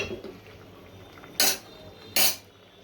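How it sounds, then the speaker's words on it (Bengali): Pieces of bottle gourd go into a cooking pot of fried shrimp and pangas fish curry, giving two sharp metallic clatters of utensil against pot about a second apart over quiet kitchen background. "লাউগুলো দিয়ে দিচ্ছি"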